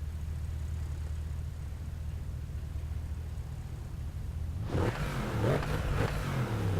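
A Bentley Continental in the Driveclub racing game holds a low, steady engine drone, then revs up sharply into a louder, rising growl.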